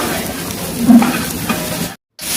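Cumin, chopped chillies and curry leaves sizzle in hot oil in a large kitchen, with a steady close crackle, light stirring and a brief break near the end.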